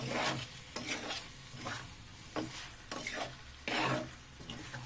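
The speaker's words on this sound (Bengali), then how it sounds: "এবার এটাকে একদম কষার মতন করে পুরো লো ফ্লেমে আমি পুরো কষতে থাকি।" Chicken slow-fried with spices over a low flame in a pan, stirred repeatedly so that soft scraping strokes come in an uneven rhythm over a low, steady sizzle, close by with no talking.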